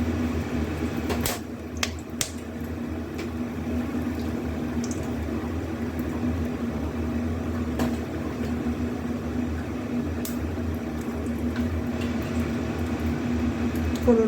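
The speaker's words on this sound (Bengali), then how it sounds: "ফোড়নগুলো একটু ফোটাফুটি হয়ে গেছে" Whole spices, cardamom and cinnamon, sizzle in hot fish oil in a pan, giving a steady close crackling fry with scattered small pops and no voices.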